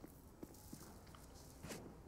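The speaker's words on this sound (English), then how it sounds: "He hears the footsteps" Footsteps in CS:GO on the Overpass map during a tournament match, a few soft, evenly spaced steps sounding faint and low beneath a steady background bed of game noise.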